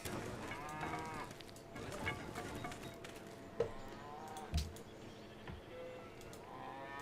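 Cattle mooing in the Civilization V strategy game, a few game-animal calls standing out over a busy layer of ambient game music and effects, with no talking.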